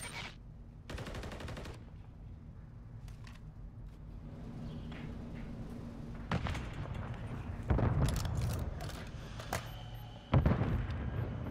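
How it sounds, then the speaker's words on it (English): Heavy explosive blasts and rapid gunfire in a Call of Duty match, a detonated charge booming amid bursts of shooting, with loud impacts near the middle and end. "Place the charge. Detonate the target."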